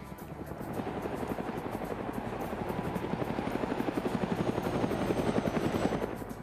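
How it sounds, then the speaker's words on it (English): A helicopter in a survival video game drones steadily with a fast rhythmic rotor chop, holding at a moderate, fairly close level throughout with no one speaking. "He's gonna be slowed down by the chopper again."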